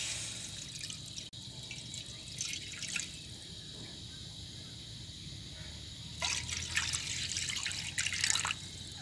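Water is poured into a wok to start a sugar syrup for maida burfi, heard as two bursts of splashing and trickling, near and moderately loud, with quieter drips between them and no talk.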